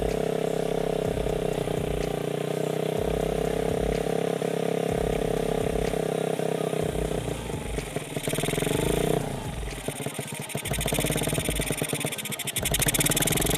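A motorcycle engine with a PE carburetor being tuned, revving with the throttle held open, a loud close drone with pulsing rises, falling back briefly before climbing again.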